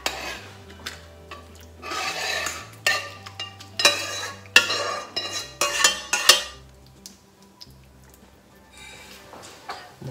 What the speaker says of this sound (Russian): Выкладываем оставшееся мясо.